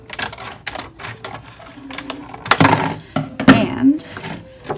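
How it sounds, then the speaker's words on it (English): Scissors cut through a cardboard egg tray to separate it from its lid, giving a run of close, uneven crunching snips and tearing scrapes, with a person speaking in places. "go ahead and cut to separate the egg tray from its lid."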